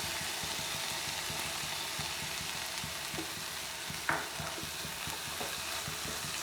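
Small chopped tomato dropped into a hot pan of samosa filling, frying with a steady sizzle while a spoon stirs and scrapes rhythmically, one sharper clink near the middle, no talking.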